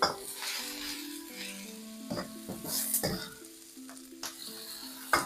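Beef sears and sizzles in a hot wok for a black bean sauce stir-fry, a steady close crackle with scraping stirs and metallic clinks from the pan, no talking.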